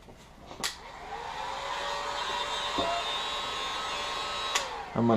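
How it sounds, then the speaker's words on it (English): A heat gun blows hot air to dry a clay coat on a knife blade, making a steady close blower rush with a thin tonal whine and a few faint clicks, with no speech. "I'm just using a heat gun."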